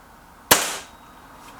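A single sharp crack from a Rexime Myth 177 air rifle firing a shot, loud and close, with a short fading tail and quiet before and after.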